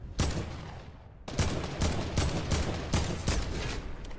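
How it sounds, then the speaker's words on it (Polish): Rapid bursts of gunfire in Fortnite, the floor-is-lava mode, fired at a distant player outside the zone; loud repeated volleys in quick rhythmic clusters after a brief lull, with no talking. "Typek strzela do gościa, który nie jest w strefie w ogóle."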